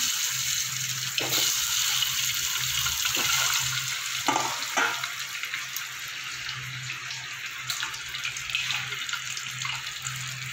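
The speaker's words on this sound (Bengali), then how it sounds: "ডিমটা আমি একটু ভেজে নেবো লাল করে।" Eggs fry in hot oil in a pot for a dhaba-style egg masala, giving a continuous soft sizzling hiss broken by a few sharper crackles and pops. No one speaks.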